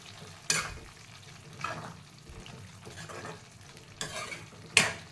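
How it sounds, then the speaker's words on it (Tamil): Potato and capsicum gravy being stirred in a pan on the stove, a spoon scraping through it in a few distinct bursts over a low background sizzle, close and fairly quiet. "இப்போ ஒரு 2 நிமிஷம் வரைக்கும் நல்லா வதக்கிட்டு நம்ம ஸ்டவ் ஆஃப் பண்ணிட வேண்டியது தான்"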